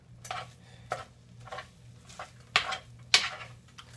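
Egg and matzoh are mixed in a bowl, a utensil clinking and scraping against the sides in irregular strokes, with several sharper knocks near the end and no talk.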